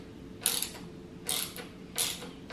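A ratchet fitted with a 1/4-inch Allen socket loosens the handlebar bolts on a Harley-Davidson Sport Glide. Three short bursts of clicking come about three quarters of a second apart, close by, over a low steady background hum.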